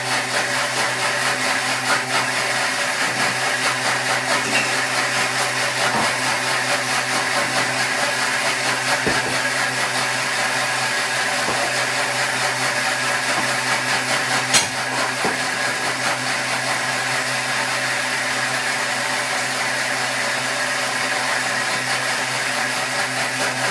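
Thermomix running steadily for the whole stretch, mixing and emulsifying a dairy- and egg-free leek quiche mixture, a loud continuous motor whir with broadband blending noise and no talk.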